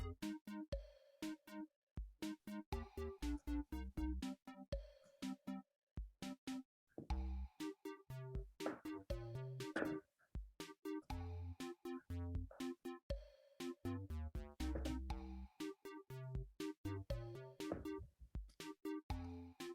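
Background song from the Kahoot quiz game app plays faintly, a bouncy looping tune of short punchy notes and steady beats running without pause, distant and thin, like it's heard through a device speaker.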